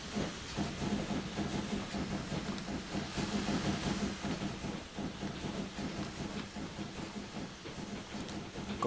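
A steam locomotive pulls away in a Transport Fever 2 rail game, bound for London with passengers, giving a continuous breathy hiss of steam over rhythmic chuffing that stays loud and close the whole time with no talking.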